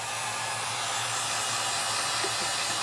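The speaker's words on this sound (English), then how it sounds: "Get my heat gun." A heat gun blows hot air in a steady, close, loud whooshing roar, used to warm an iPad 2 screen for removal.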